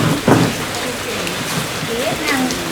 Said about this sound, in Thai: ฝนตกยงไม่แรงครับผม